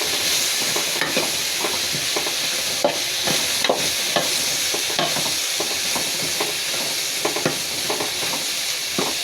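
A spiced egg dish sizzles in a pan as it is stirred and mixed, with steady frying hiss and repeated scraping taps of a spatula throughout.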